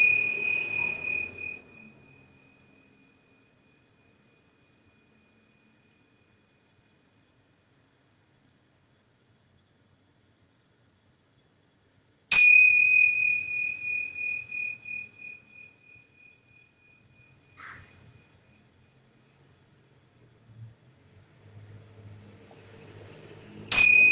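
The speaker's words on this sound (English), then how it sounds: "I'm going to ring my yoga bells 3 times" Yoga bells are struck three times at long intervals, each a bright metallic ring that decays slowly into near silence before the next strike.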